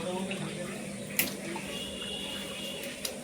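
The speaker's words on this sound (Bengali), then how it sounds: "এইদিকে বিরিয়ানির চিকেন ধোয়া চলছে।" Tap water runs steadily and faintly while raw chicken is washed for biryani in a busy cooking setting, with a couple of small clinks and a voice in the background.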